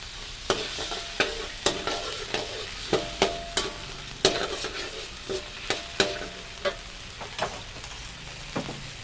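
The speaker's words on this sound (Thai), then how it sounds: "แล้วก็เอาน้ำตาลลงไป ใส่น้ำลงไปนิดหน่อยเคี่ยวเคี่ยวน้ำตาล" Sugar simmers with a little water in a pan, a soft bubbling sizzle under a series of sharp scraping and clinking strokes from a utensil, close by with no talking.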